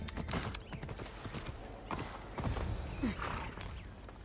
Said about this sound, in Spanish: Creo que Adonis le sacará un buen partido a este caballo.